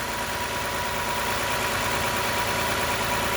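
Engine of a Toyota family van running steadily with the alternator pulley turning, heard close up as a constant dense hum and whirr that stays even throughout, with no talking.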